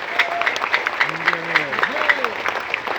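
An audience claps at a Muharram gathering, a dense crackle of many hands under a voice that keeps speaking through the whole burst.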